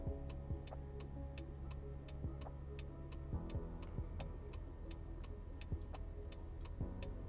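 A quiet car engine idles in the Taxi Life driving game as a low steady hum, joined by a regular ticking like a turn signal or clock, faint and without talk.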